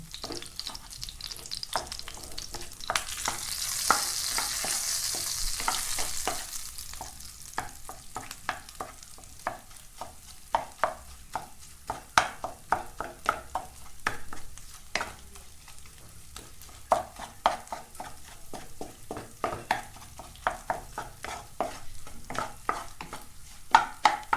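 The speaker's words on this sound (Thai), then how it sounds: "ยีให้เขาแหลกแล้วก็คั่วน้ำมัน เขาจะได้หอมเวลาผัดข้าว" Shrimp paste crackles and sizzles steadily as it is stir-fried in hot oil for mixing into rice, with frequent scraping and spatula taps on the pan, up close and without voices.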